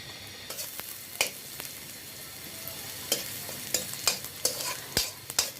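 Chopped onion and garlic frying in hot mustard oil, a soft steady sizzle broken by scattered louder clatters of stirring and utensil knocks, close by with no talking.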